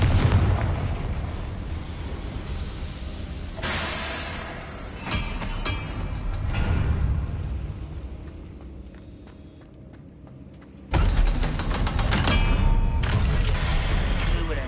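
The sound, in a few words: Confringo spell explosions in Hogwarts Legacy video game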